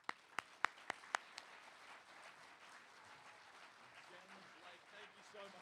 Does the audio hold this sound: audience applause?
yes